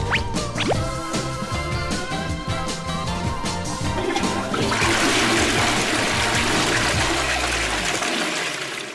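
A toilet flushes loudly and close by, a rushing swirl of water that keeps going for several seconds before draining away.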